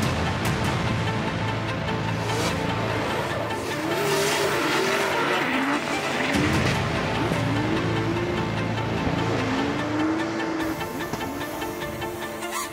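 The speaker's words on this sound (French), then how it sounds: "des voitures en travers sur la nationale" Rally cars slide sideways along a public national road on the Napoleon Road rally stage, engines revving hard and wailing up and down with tyre scrubbing over a loud, continuous stretch.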